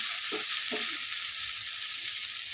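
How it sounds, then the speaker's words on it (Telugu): Okra frying with onion and roasted gram dal gives a constant bright sizzle close up, with two soft stirring scrapes in the first second; no speech. "మొత్తం ఇట్లా మిక్స్ చేసుకోవాలి ఉల్లిగడ్డ పుట్నాల పప్పు ఇదంతా మంచిగా ఒక దగ్గర కలుపుకోవాలి"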